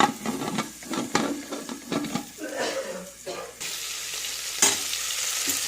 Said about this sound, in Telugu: ఇది ఆలు, క్యారెట్ మొత్తం వేగాలి